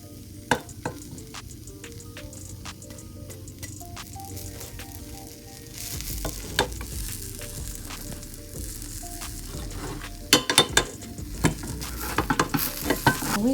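Blueberry cinnamon pancakes sizzling in a pan as they are flipped, a steady frying hiss broken by scraping and clinks of a spatula against the pan, close up.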